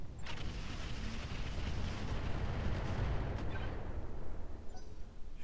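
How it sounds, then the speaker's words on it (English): A salvo of LRM missiles launched in the Roguetech mech game, a broad continuous roaring whoosh that holds loud and thins toward the end. "We're just gonna fire the LRMs."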